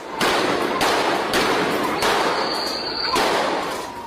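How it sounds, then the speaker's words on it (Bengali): Several loud, sharp blasts ring out about once a second, each a sudden bang with echoing decay: police gunfire and sound grenades during a street clash at Shapla Chattar, Dhaka, 5 May 2013. "জবাবে আসে গুলি আর সাউন্ড গ্রেনেড"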